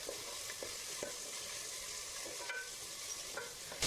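Onion softens in a pan of ghee for Malabar ghee rice, giving a quiet, even sizzle with occasional soft taps of a stirring spoon.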